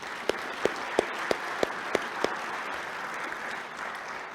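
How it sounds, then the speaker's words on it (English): At a Rotary club meeting, a seated audience gives a round of applause, a dense patter of many hands with one person's louder, evenly spaced claps standing out early before the clapping thins and fades. "Another round of applause for Ed Ewers."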